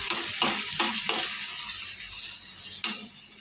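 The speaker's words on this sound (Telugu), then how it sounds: "వేసుకున్నాక ఉల్లిపాయలు వేసేసుకోవాలి. ఇది కొద్దిగా వేగనివ్వాలి." Onions fry with cumin seeds and curry leaves in a pan, a steady close sizzle broken by several sharp scrapes of a stirring spoon, with no one speaking.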